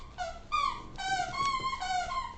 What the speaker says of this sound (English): that's my dog in the background who decides to start playing with toys right about now